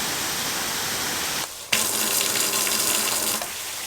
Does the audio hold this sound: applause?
no